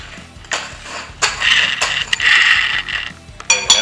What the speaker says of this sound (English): what we're gonna use is the rigid cone reamer and clean the inside